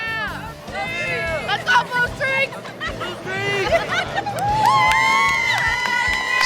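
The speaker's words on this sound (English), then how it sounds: "Sold out crowd" A sold-out crowd at a high school basketball tournament game fills the gym with loud chatter, shouts and cheering, sneakers squeaking sharply on the court amid the constant hubbub.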